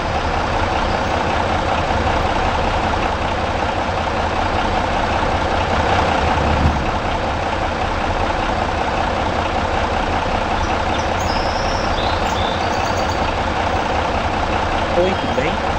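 Mercedes-Benz O345 bus engine idling in Proton Bus Simulator, a steady, loud diesel drone with a low rumble that runs unbroken throughout, with a brief swell near the middle.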